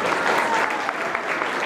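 An audience at a cycling team presentation in Boyacá claps steadily and densely throughout, a continuous wash of applause filling the short stretch with no pauses.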